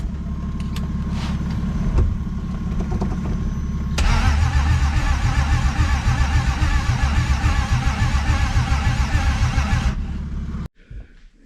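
A BMW E30 with a swapped-in M50 engine turning over on its first start, a steady cranking drone that catches into a louder, rough running roar for several seconds before cutting off abruptly, close up and without talk.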